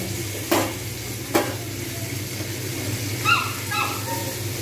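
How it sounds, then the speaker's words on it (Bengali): Chicken barbecue in a pan, with a few sharp scraping knocks as the pieces are flipped and stirred over a soft sizzle. "এরকমভাবে এপিট ওপিট করে একটুখানি নেড়ে নিতে হবে"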